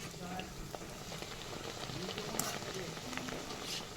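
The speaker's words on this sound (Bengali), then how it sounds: "চলো এইভাবে আমি এক এক করে সবগুলোকে ভেজে নিই।" Luchi, a puffed flatbread, fries in hot oil with a soft, continuous bubbling sizzle at moderate level, broken by small pops and light clinks. A voice is faintly heard at times under the frying.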